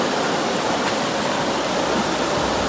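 Cool river water flows steadily in a broad, dense rush, a constant loud wash with no pauses and no voices over it.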